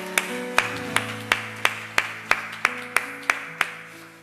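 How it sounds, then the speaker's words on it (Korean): Worshippers clap in unison during a Korean Sunday church service, about a dozen sharp, evenly spaced claps keeping a steady beat over sustained keyboard or organ chords. "우리 주님께 감사와 영광의 박수 한번 올려드립시다."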